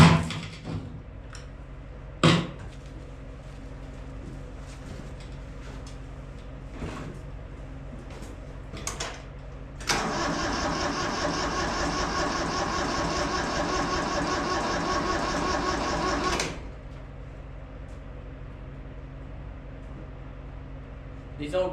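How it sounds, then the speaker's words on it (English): An old, cold-blooded Kubota tractor with glow plugs clatters into a steady diesel run for several seconds and then cuts off, framed by clunks and knocks, with people talking nearby. "I'm just going to start the tractor up and just see if it raises up."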